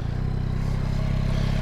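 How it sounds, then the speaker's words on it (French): A 2023 Yamaha MT-09 motorcycle engine idling up close, a steady low throbbing rumble with a mechanical clatter, constant in level throughout with no revving. "On va juste écouter rapidement le son de cette moto."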